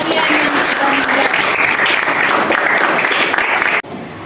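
A classroom claps for classmates who have just answered. The applause is dense and sustained and stops abruptly near the end.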